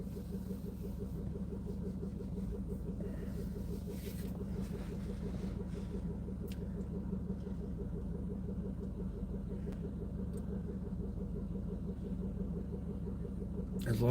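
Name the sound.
passing cars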